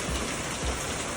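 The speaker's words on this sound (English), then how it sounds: "The rain just hasn't eased" Heavy, steady rain pours down on a wet walking track along Helena Ridge toward Whananaki, a dense hiss filling everything with a couple of heavier gusting surges.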